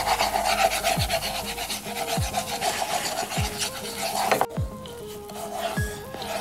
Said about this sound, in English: we're just gonna slowly sift it in. Just keep stirring, Carmen.